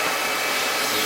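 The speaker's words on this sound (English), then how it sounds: "I'm going to go ahead and grab a shop vacuum." A shop vacuum pulls air out of a Mylar food-storage bag, a brief, loud, steady rushing hiss with no talk.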